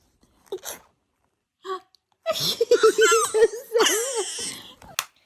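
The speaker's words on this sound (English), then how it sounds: "Can you do it? Can you sneeze?" Baby sneezing: a tiny sneeze and a small gasp, then the baby's high babbling, laughing vocal sounds, with a final short sneeze-like burst at the end.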